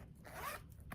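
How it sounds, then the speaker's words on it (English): A quick, faint zip on the pouch of a red pebbled leather purse, one short pull with no talk. "The back you have a zipper pouch."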